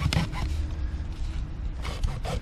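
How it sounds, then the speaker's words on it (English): A plastic drain pipe is sawn through by hand, giving rough rasping strokes with a burst at the start and another near the end, close and moderately loud. "Just cut right through your pipe."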